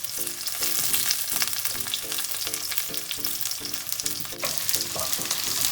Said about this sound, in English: the first thing to do is dropping the onions while the oil is frying